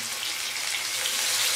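Tomatoes dropped into a hot pan of frying potatoes give a bright, steady hiss of sizzling oil, close and continuous for a brief moment.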